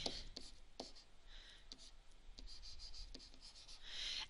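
A marker squeaks and scratches across a board while someone works through a math problem, in short bursts of close strokes separated by pauses.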